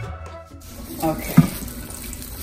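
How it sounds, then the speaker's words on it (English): Habanero peppers are rinsed under a running kitchen tap, a close, steady gush of water splashing over them for a couple of seconds. "I will go ahead and wash the pepper."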